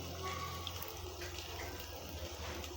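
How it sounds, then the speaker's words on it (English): Quarter cup of milk poured into a pot of beef stew, a steady close liquid splash and gurgle running continuously without pause. "I have a quarter cup of milk. I'm going to add it in there,"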